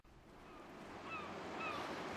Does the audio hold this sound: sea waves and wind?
yes